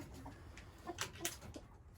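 Chickens in a warm hen house during record cold give a few soft, scattered clucks and chirps against a faint, quiet background.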